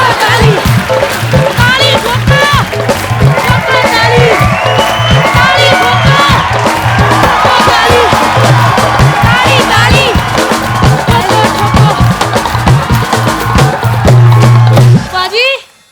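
Loud studio audience on a comedy talk show clapping and cheering throughout, with shouting voices and music over the crowd, cutting off at the end.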